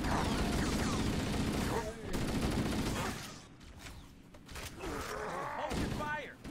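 Rapid gunfire bursts from the Halo video game, sustained and loud through most of the stretch, easing briefly midway before resuming, with game chatter faintly mixed in.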